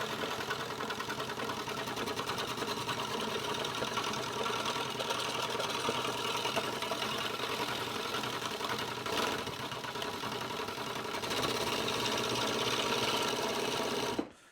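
A lawnmower blade being sharpened: steady, gritty mechanical grinding runs continuously with a dense buzzing texture, loud and close, with a brief dip near the end before it stops.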